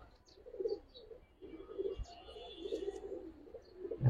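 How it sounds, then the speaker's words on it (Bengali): Giribaz high flyer pigeons coo softly and intermittently in a low murmur, close by and faint, with a few scattered chirps and a thump near the end. "কবুতর দেখেন ভাই"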